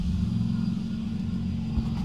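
Ford AU Falcon car driving, a steady low engine rumble heard from inside the cabin, fairly loud and even throughout with no talk.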